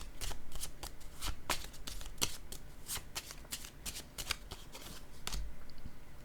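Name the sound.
shuffling tarot cards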